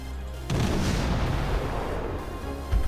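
Naval guns boom from a destroyer in World of Warships, a loud low blast opening into a long rumbling roar of gunfire with another heavy thump near the end.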